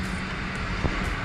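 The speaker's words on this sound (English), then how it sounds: "Say hi to the plane" Fixed-wing airplane passing overhead, a steady broadband engine roar that holds evenly throughout at moderate distance, with no talk over it.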